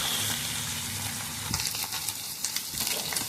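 Salai fish frying in hot oil gives a steady, close crackling sizzle with small pops and light stirring scrapes.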